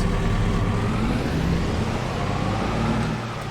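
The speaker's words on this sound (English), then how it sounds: "Boy, that pickup truck's loud." A pickup truck engine in Farming Simulator 22 drones steadily, a loud, continuous low rumble heard alone that eases slightly toward the end.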